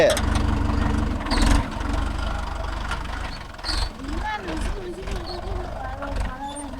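A Mahindra Yuvo Tech Plus 585 DI tractor with a nine-tine cultivator runs steadily with a low, throbbing idle, close by and continuous, while people talk over it.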